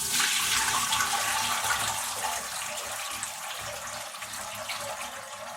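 Cold water is drained off boiled pasta while cooking village-style Pakistani masala pasta with chicken and vegetables, producing a steady, close rushing pour that eases a little as it continues, with no talking.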